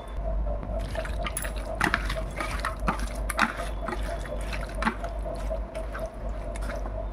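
Raw chicken being mixed by hand with a yogurt marinade, producing wet squelching and squishing sounds that come in irregular bursts over a low steady background hum.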